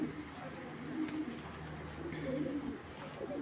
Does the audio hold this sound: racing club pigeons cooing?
yes